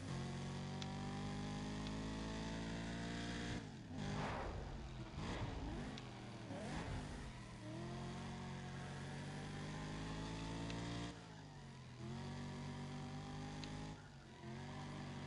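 Race car engine in Need For Speed ProStreet revving hard and continuously, with sharp throttle swings and gear-change dips, loud and close throughout.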